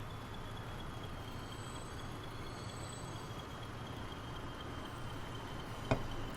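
A train rolls along steadily in the railway game Transport Fever 2, a low continuous rumble with a faint high whine, and a short sharp click near the end.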